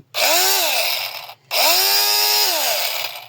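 A 12-volt cordless angle grinder fitted with a 70 mm disc spins up twice, each run a high whine that rises in pitch, holds steady, then winds down, with a brief gap between the runs.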